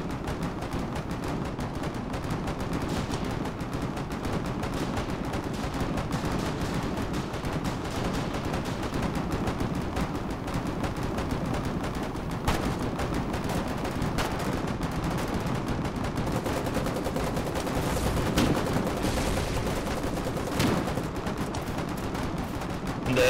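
Sustained gunfire hammers toward an enemy entrance in a video game, a long dense barrage of rapid machine-gun shots and heavier booms continuing without pause at moderate loudness.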